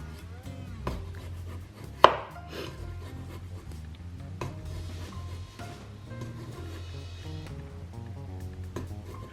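A knife cuts slits into potatoes on a board, giving a series of sharp close chops and taps, one louder strike among softer irregular cuts, over quiet background music with no speech.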